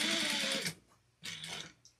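A sewing machine back stitching a seam on a holiday armadillo stocking, running in two short bursts with a brief pause between them, a close whirring hum with no talking.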